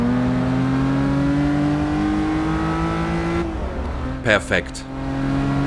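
A race car engine in Forza Motorsport 6 holds a loud, steady high-rev drone during a city street race, then drops pitch as the throttle eases, with a couple of quick blips near the end and a brief spoken word.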